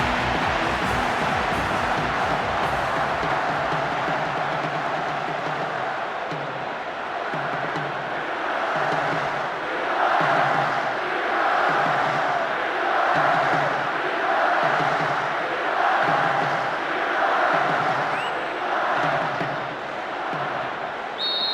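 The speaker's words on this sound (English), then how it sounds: "Supporters of both teams are creating a tremendous atmosphere in the stadium for this group stage match." Stadium crowd in PES 6 on PlayStation 2 cheering steadily for a World Cup group stage match in Germany, a loud continuous roar with rhythmic chanting pulses, no commentary over it.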